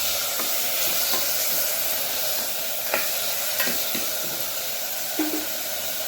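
Onions and tomatoes fry in a pan for Tamil-style tomato rice, a steady close sizzle with occasional scraping stirs and light clinks throughout, no voices.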